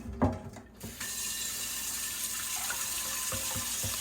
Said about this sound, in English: now I'm taking all the water and pour it into the sink